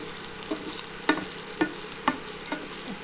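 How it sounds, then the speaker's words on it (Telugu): Onions fry in hot oil as a brinjal curry begins, a steady sizzle broken by about five sharp spatula scrapes and stirs at a regular pace, close and clear with no talking. "ఒక్క 2 minutes కొంచెం ఉల్లిపాయలు వేగని, మొత్తం మెత్తగా వద్దు కానీ కొంచెం నూనెలు అలా"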